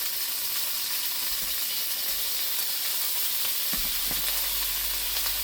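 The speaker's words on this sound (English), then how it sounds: "we'll put some bacon in. This bacon's not going to take that long" Thin bacon sizzles and fries in a pan, giving a steady close hiss with occasional soft scraping and clinking.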